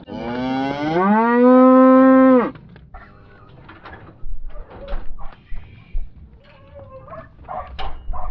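A Dexter cow, from a grass-fed Dexter herd, gives one loud, close, sustained moo lasting about two seconds, followed by quieter scattered farm sounds and rustling.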